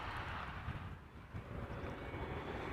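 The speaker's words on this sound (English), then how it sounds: "Air Canada flight 808 arriving from Toronto, 777." An Air Canada Boeing 777 arriving from Toronto gives a faint, steady engine rumble at an airport, a low broadband roar with a slight dip partway through.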